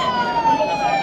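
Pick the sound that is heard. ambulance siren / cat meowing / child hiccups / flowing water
ambulance siren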